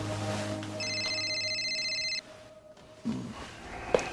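A telephone rings indoors with one long electronic ringing burst, a high trilling tone that stops abruptly, followed by a quieter pause and faint handling noises.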